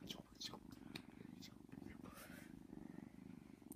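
A female house cat purrs softly and steadily at close range, a quiet, even, low rumble running the whole time beneath faint scattered background noises.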